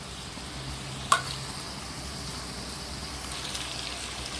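Squid coated in masala fries in a pan, a faint, steady sizzle with one sharp click or tap near the start, and no talking.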